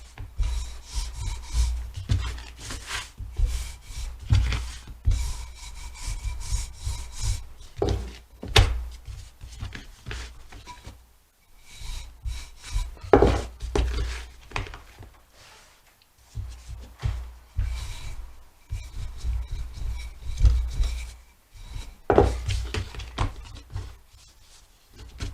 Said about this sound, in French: Et je vais commencer à baisser ma pâte